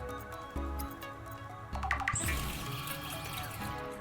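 Replacement water is made at a base in the video game Subnautica 2, with a short burst of watery gurgling, splashing and dripping effects, quiet at first, then swelling into a brief rush that lingers.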